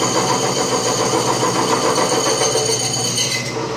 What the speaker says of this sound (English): you're prime milling with a big slitting saw that's really thin